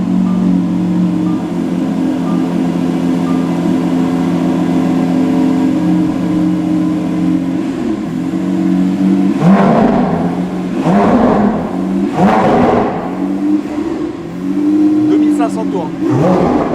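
A cold Lamborghini Aventador SVJ with a Gintani exhaust idles with a deep, loud, tonal rumble, then barks through several sharp revs in the second half, with voices nearby.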